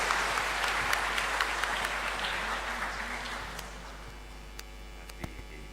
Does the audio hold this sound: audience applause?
yes